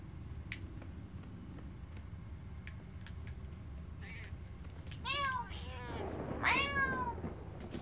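Cat meows from a video game, several rising and falling calls bunched near the end over a steady game soundscape with faint ticking clicks.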